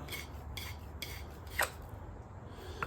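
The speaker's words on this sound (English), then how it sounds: "Probably use this and just ream it out." A hand reamer enlarges the hole in a wooden tool handle for a tight fit, giving repeated quiet rasping strokes with short pauses between them, with no talking.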